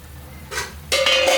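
Two quick metallic clatters as a plate is set over a pot of boiling bottle gourd kofta curry, the second ringing briefly; no talking.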